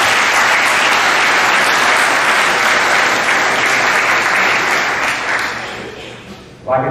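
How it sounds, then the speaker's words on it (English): A crowd applauds at a high school spring sports awards program, steady loud clapping lasting about six seconds before tapering off, followed by a brief voice. "So we'll go ahead and give these guys a round of applause."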